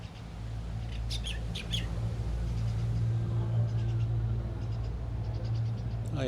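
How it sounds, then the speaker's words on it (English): Birds chirp and squawk outdoors in short high bursts, fairly faint and distant over a steady low rumble that sounds like traffic. "I heard the bird."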